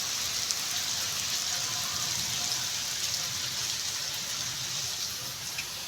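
Heavy rain pours down steadily on a village, a dense, even hiss of drops striking surfaces with no letup and no voices.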